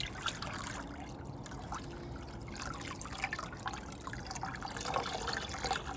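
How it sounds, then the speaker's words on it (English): Water squeezed and dripping from a freshly rinsed skein of handspun ombre grey yarn, doubled over on itself; a close, steady trickle and patter of liquid runs throughout with small splashes. "And I'm just doubling it on itself and gently squeezing the water out."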